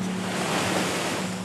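Sea waves wash against the shore in a continuous broad roar, with wind buffeting the microphone, loud and steady throughout without any voices.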